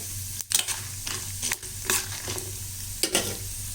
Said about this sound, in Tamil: இப்போ இந்த கடலைப்பருப்பு வேர்க்கடலைலாம் நல்லா வறுப்பட்டுடுச்சு